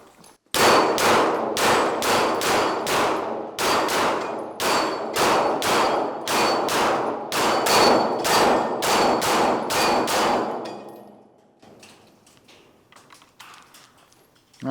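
Rapid strings of SIG Sauer P320 XFive SXG pistol shots fired at steel plates, loud and sharp with a ringing clang on each hit, about twenty in quick rhythmic bursts before the range falls quiet with faint background noise.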